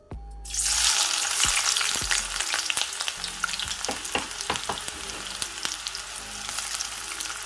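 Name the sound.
onion and seasonings frying in hot oil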